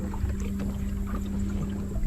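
A boat cruises steadily down a river, its motor humming at a constant low pitch with water washing and light wind buffeting the microphone close by, no talk heard.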